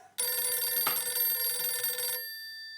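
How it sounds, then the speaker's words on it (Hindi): A telephone bell rings loudly in a TV sitcom household scene, one continuous ringing burst of about two seconds that cuts off abruptly, with no talking. "दया का फोन।"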